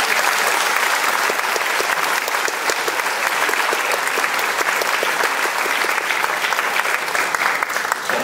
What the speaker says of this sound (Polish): Bardzo proszę o oklaski.